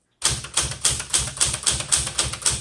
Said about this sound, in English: I think this would be very suitable for authors who want a more budget typewriter